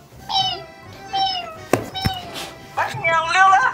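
Several cats meow in turn, close and fairly loud, with drawn-out whining calls and a couple of sharp thumps in between.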